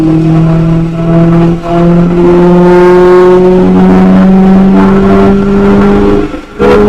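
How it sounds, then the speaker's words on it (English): A car with a tuned TFSI engine and Med9.1 engine management pulls at full throttle in fourth gear, its loud engine drone climbing steadily in pitch for about six seconds before the throttle abruptly drops off. "So I'm going to get in that 4th gear and plant it and watch."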